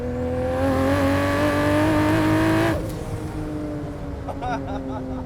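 A 930 whp JDM Toyota Supra with a turbo pulls hard in third gear, its loud engine tone climbing steadily before cutting off abruptly and settling to a lower drone, heard from inside the car.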